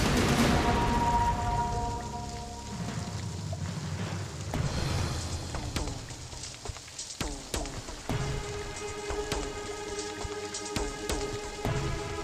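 Heavy rain pours down in Mumbai, a dense steady hiss of drops striking surfaces, fairly loud and continuous, with music and tonal sounds layered over it and no talking.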